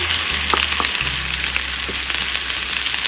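Potatoes and onion fry on medium-high heat in a pan, a loud, dense crackling sizzle with scattered pops and a low steady hum underneath.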